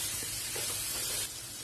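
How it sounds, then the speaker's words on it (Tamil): Chopped ridge gourd sautés in a hot pan for stir-fried peerkangai poriyal, giving a soft, steady hiss and sizzle with faint stirring scrapes. "இது எல்லாத்தையும் சேர்த்து வதக்கி விட்டுருலாம்."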